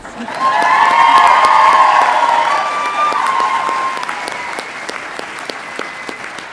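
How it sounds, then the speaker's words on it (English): An audience claps loudly at a veterinary hooding ceremony for a graduating class, a dense burst of applause with faint cheers that swells, then tapers off over several seconds. "Let's also give a big round of applause to Dr. Fales"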